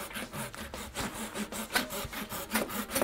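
A hand saw cuts into wood for a garden bench joint, a close, quiet rhythmic rasp of about a dozen back-and-forth strokes at an even pace.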